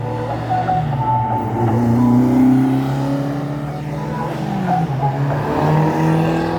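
A 4CV prototype race car at a hill climb race passes close by, its engine droning loudly and steadily with shifting pitch as it accelerates, with no voices heard.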